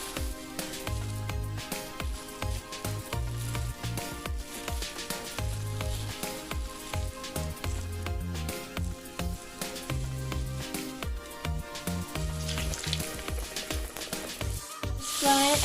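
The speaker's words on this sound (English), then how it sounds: "I will now going to add the oil to fry the fish" Fish frying in hot oil over medium heat, a faint, continuous crackling sizzle running beneath louder background music throughout.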